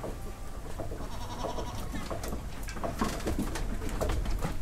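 Boer cross goats at a goat and sheep farm bleat in a busy pen, with repeated overlapping bleats and calls over constant farmyard background noise, and birds faintly audible too.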